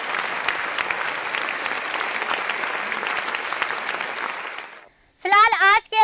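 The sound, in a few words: audience applause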